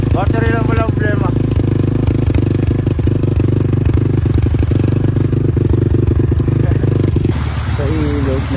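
A trail motorcycle engine runs steadily after a jump start, its loud mid-pitched idle with clattery mechanical rattle continuing throughout; a voice speaks briefly over the running engine near the start and end.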